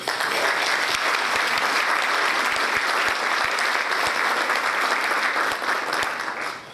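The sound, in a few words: audience applause for club staff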